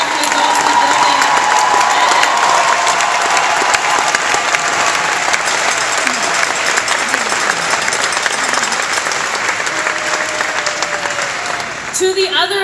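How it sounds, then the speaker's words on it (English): Sustained applause with some cheering from a large commencement audience honoring teachers and school staff, loud and steady for about twelve seconds before tapering off at the end. "Let's have a round of applause for the teachers, administrators, staff, and adults in the building."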